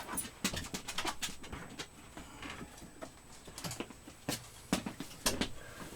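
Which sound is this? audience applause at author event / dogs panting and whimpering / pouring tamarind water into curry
dogs panting and whimpering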